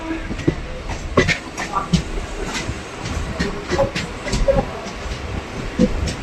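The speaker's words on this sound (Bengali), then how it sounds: "10টা 45 ট্রেন আমাদের ছেড়ে দিয়েছে বিবাদীবাগ থেকে তার গন্তব্য কল্যাণীর উদ্দেশ্যে" A Kolkata local train runs from BBD Bag toward Kalyani with steady rolling rumble, rattling carriages and intermittent clicks and thumps of the wheels over the rails. Faint voices are heard inside the coach.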